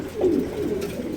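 Pigeons in a loft give a single soft, low coo, close by and clear, with nothing else sounding.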